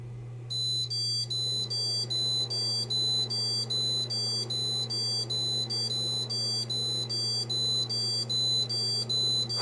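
A Buffalo Terastation Duo TS-WXL/R1 network storage unit sounding a steady series of repeated high electronic beeps in even rhythm, with a constant low hum beneath.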